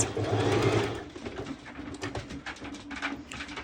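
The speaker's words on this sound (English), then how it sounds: "my sewing machine will be kind of like trying to skip it a little bit." A sewing machine runs in a fast, uneven stitching rhythm, loud at first and then stuttering in short bursts as it works through thick material.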